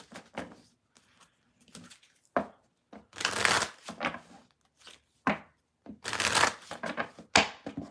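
Tarot cards being shuffled by hand, a run of soft irregular riffles and slaps coming in short bursts with pauses between, close and fairly quiet, with no speech.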